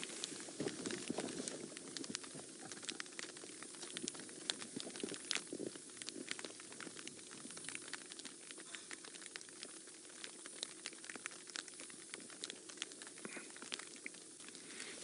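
Light rain patters steadily and softly on safari vehicle rain covers, a dense scatter of tiny drops filling the background with no voices.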